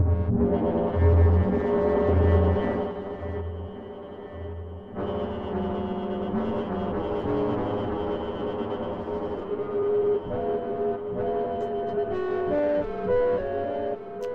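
Zapzorn Solstice Blue synth running the Distortia sound source drones with gritty, distorted sustained tones, a low pulsing layer that cuts out briefly, then steady buzzing notes returning with faint higher plinks, moderately quiet and alone.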